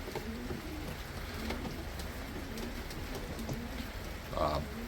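Racing pigeons in a loft, a Devriendt-line breeding pair of blue bar mixed-wing birds, give soft cooing and rustling over a steady patter like rain, with a brief louder call near the end.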